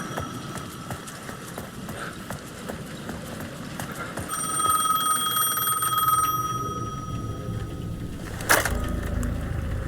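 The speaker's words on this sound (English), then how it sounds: "The payphone at the edge of the plaza was ringing again." A payphone in a plaza in the video game Alan Wake 2 rings in steady repeated trills over a busy ambient background with footsteps, then a sharp clatter near the end.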